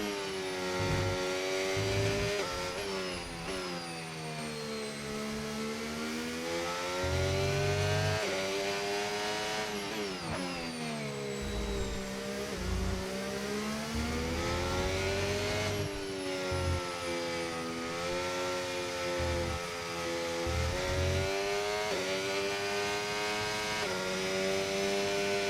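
A Formula 1 car engine racing at Budapest in the F1 25 game, a loud high-pitched whine that rises through the gears, drops sharply under braking and climbs again, continuous and close.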